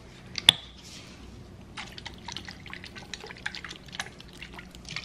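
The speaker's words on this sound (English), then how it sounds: "And then also Worcestershire sauce." Worcestershire sauce is poured onto meat in a home kitchen, heard as a sharp drip near the start followed by soft, irregular wet splats and dribbles, close and fairly quiet, with no talking.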